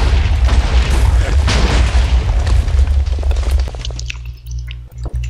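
A loud Minecraft explosion blows up terrain near lava: a heavy, sustained boom with rumbling debris that fades after a few seconds into scattered pops and crackles.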